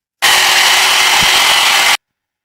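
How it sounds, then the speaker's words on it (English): A hairdryer blows on painted miniature armour, a loud, steady whooshing drone that starts abruptly, holds for almost two seconds and then cuts off. "I'm going to hairdryer this so you can watch it cracking"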